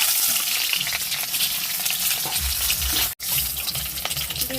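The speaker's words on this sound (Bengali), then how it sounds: "হালকা করে ভেজে নেব" Eggs frying lightly in hot oil in a wok for an egg curry with potato and tomato, a continuous hissing sizzle with a few stirring scrapes, close, cut by a brief dropout near the end.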